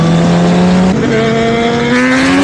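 A Honda CBR 1000RR sport motorcycle on a large group road ride roars past close by, its loud engine note shifting and then climbing steadily in pitch.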